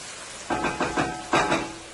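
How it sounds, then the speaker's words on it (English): Garlic, scallion and onion sauté in hot oil, giving a steady close sizzle that swells in a few short bursts as the pan is stirred or tossed, with no talking. "I'm going to let this fry, sauteed in my oil for about 2 minutes"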